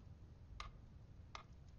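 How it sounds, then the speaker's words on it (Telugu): A clock ticking in a quiet room, two faint, crisp ticks spaced well apart over a low background hum, no voices. "ఈ టికింగ్ శబ్దం వినపడుతుందిగా"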